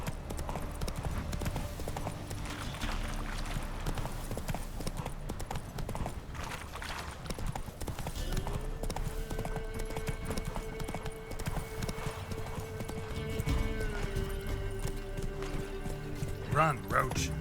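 A horse gallops in The Witcher III: Wild Hunt, with rapid, rhythmic hoofbeats running continuously under game music and a character's voice, plus a brief whinny-like sound near the end.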